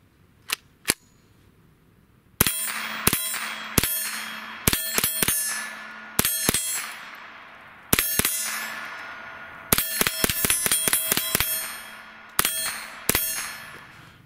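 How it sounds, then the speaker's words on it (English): A Ruger 10/22 50th anniversary rifle fires a series of sharp, ringing shots outdoors, two quick ones first, then irregular pairs and bursts, each crack trailing off in a short metallic ring. "let's shoot a few rounds"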